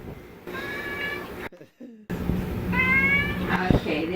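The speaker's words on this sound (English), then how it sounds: "So we're gonna feed the cat." Two drawn-out cat meows separated by a brief silence, close and clear, with faint household clatter underneath.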